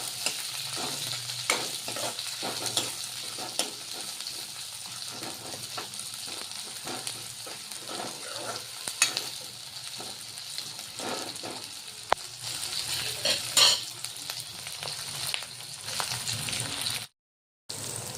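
Green chillies fry in a pan with steady, continuous sizzling and occasional stirring scrapes; no voices, with a brief silent gap near the end.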